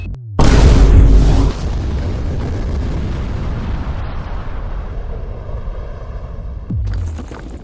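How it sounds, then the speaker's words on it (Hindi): A huge, deep explosion bursts out loud and sudden, then a long rumbling roar rolls on for several seconds before fading out. "ये एक असली धमाका है"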